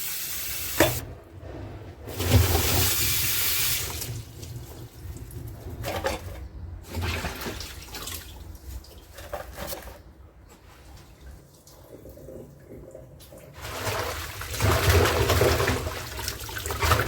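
Plain water splashes and trickles over household plants being rinsed nearby, coming in uneven bursts of running and pouring with brief quieter pauses between them.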